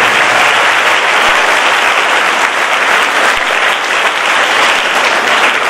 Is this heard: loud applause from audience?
yes